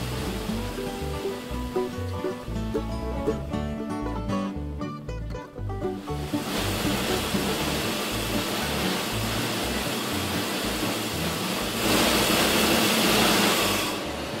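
A TEI drifter rock drill runs continuously, its loud rattling percussive hammering giving way to a steady rushing roar that swells louder toward the end.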